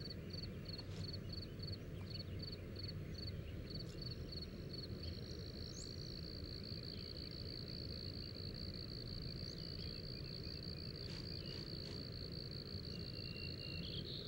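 Crickets chirp near a pond in a steady high trill that starts as a string of quick pulses and then blurs into one continuous drone over a constant low outdoor rumble, with no voices.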